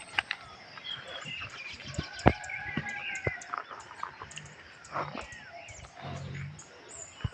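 Birds chirp intermittently through early-morning rural countryside, calls scattered near and far over a steady outdoor ambience with occasional sharp knocks.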